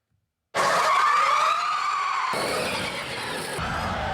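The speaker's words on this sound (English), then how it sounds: "Ken Block's little electric Ford motor cross car is an absolute rocket." Ken Block's electric Ford rallycross car accelerates hard with a loud, rising electric whine, tyres squealing and scrabbling as it blasts along, shifting tone midway and continuing strongly to the end.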